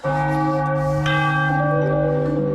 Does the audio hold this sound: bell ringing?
yes